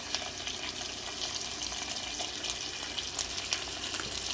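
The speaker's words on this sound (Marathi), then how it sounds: "आणि हे मसाले आपण एकदा या बटरमध्ये आधी भाजून घेऊया." Ground spices including chilli powder, turmeric and kasuri methi fry in butter for pav bhaji, a steady soft sizzle with light stirring, heard close and alone.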